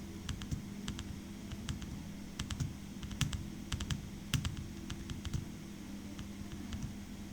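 Rapid keystrokes on a computer keyboard while entering data into an Excel spreadsheet, a close, quiet clatter of irregular clicks and bursts over a soft background hiss.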